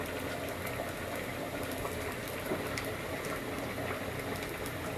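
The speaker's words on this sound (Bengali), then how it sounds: "প্রথমে আমি কড়াইতে তেল ঢেলে দিলাম" Oil going into a wok at the start of a Bengali prawn curry with jackfruit seeds, stalks and potato, a steady hissing, bubbling wash that runs evenly from start to finish with no speech over it.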